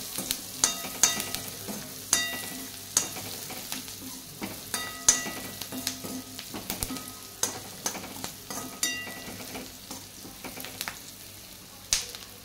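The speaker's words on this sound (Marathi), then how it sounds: "आणि हळदीमध्ये कांदा पुन्हा परतून घ्यायचा आहे।" Onion sautéing with turmeric in a pan for Maharashtrian kanda poha: a soft, even sizzle under regular clicks and scrapes of a spoon stirring, close by and without any voices.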